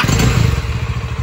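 A new Bajaj Dominar 400 motorcycle engine starts and settles into a loud, close, throbbing low rumble with a few clattering thumps.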